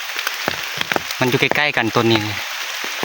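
Rain falls steadily outdoors near fruit trees, a continuous hiss under someone speaking close by.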